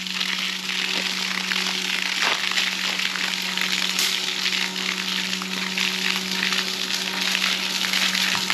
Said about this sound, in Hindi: अभी पानी भर रहा है इसमें।